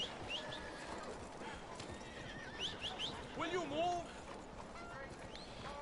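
A horse whinnies and snorts in Red Dead Redemption 2, with clip-clopping hooves over a busy game soundscape. A sharper neigh rises near the middle, under a voice that talks throughout.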